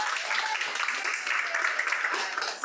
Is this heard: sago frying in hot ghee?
no